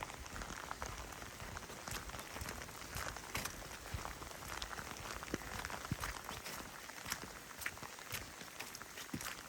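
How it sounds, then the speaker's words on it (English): Heavy small hail pelting down during a storm on the Deschutes River Trail in Deschutes National Forest, Oregon, a dense patter of tiny impacts with sharper ticks and crackles scattered across it, steady and fairly faint. "This is pretty intense hail."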